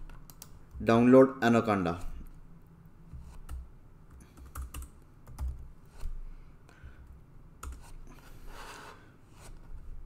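Scattered, soft computer keyboard key presses and clicks come at an uneven pace after a brief spoken phrase, fairly close and fairly quiet against a low background hum.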